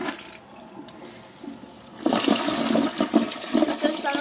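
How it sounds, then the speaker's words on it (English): A toilet flushes with a sudden rushing surge of water about halfway through, after a quieter stretch of faint background noise, then keeps gurgling and swirling loudly to the end. "Now I'm just gonna flush the toilet."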